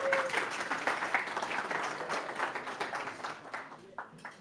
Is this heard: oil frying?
no